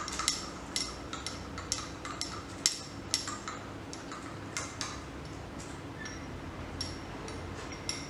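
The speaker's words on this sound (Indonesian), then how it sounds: "lalu kita aduk" Spoon stirring a mixture of soap and water in a container, with irregular light clinks and taps against the sides over a steady low background hum.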